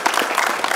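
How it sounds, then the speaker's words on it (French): Short burst of audience applause at a mushroom exhibition in Is-sur-Tille, dense steady clapping throughout with no voices over it. "Donc, moi, je voudrais qu'on vous applaudisse."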